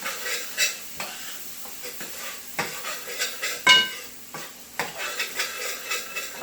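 Garlic sizzles in butter in a pan with a steady, quiet frying hiss, punctuated by scraping stirs and the occasional clink of a utensil against the pan, with no talking.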